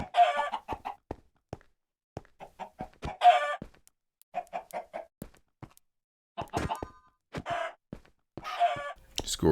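Minecraft chickens cluck in short, choppy bursts with clicky, synthetic-sounding squawks, scattered irregularly and fairly close throughout.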